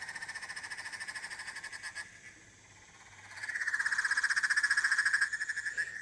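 Frog calls, apparently red-eyed tree frog recordings, play from a phone speaker as rapid pulsing croaks. The calls pause briefly, then return louder and denser. There is no talking.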